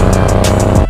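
A Honda NC700S motorcycle engine running steadily up close, a loud, even drone with a regular pulsing beat throughout one short burst, without any talk.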